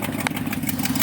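A car engine idles steadily nearby, with a faint ticking from the exhaust manifold over the even mid-pitched hum.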